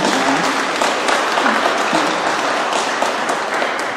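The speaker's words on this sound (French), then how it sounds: "je voudrais qu'on applaudisse tous Claude pour toutes les fois qu'on a oublié." A church congregation applauds during a Saturday mass, filling the space with loud, dense, continuous clapping that holds steady for about four seconds.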